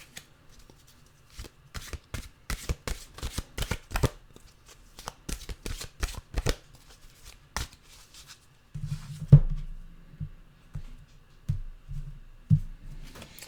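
A deck of mantra cards shuffled by hand: rapid, dense riffling flurries for several seconds, then a softer pause and a few thumps and taps as the cards are squared, close and clear.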